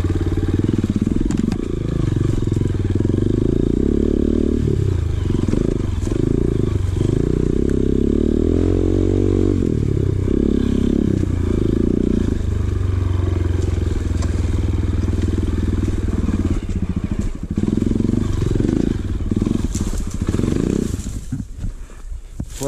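Dirt motorcycle engine labouring up a steep rocky trail, loud and close, with the revs rising and dropping repeatedly, plus clattering and scraping over stones throughout.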